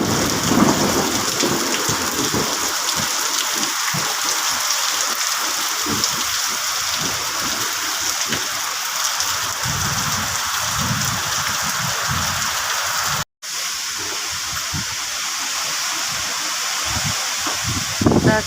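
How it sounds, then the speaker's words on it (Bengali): A morning thunderstorm pours heavy rain in a dense, continuous roar, with deep rumbles of thunder rolling underneath throughout, loud and close, with a brief cut in the middle. "দেখো বন্ধুরা, কিভাবে ঝড় উঠেছে সকালবেলায়।"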